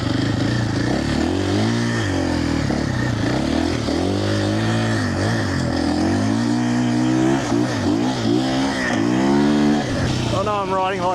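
A 2025 KTM Champion Edition motorcycle is ridden with its engine running loud and close, pitch rising and falling as the rider rolls on and off the throttle, with wind noise and a voice talking over it.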